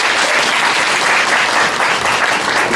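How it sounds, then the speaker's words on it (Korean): Loud, dense applause from a church congregation honouring the children's ministry teachers, steady and close throughout. "우리 선생님들 고생 많이 하셨다고 같이 박수 한번 쳤으면"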